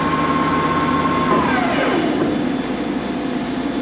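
A ROMI flat bed lathe with a 16-inch three-jaw chuck spins at speed, giving a loud, steady whirring hum whose tone drops midway as the spindle slows, then continues at a lower drone.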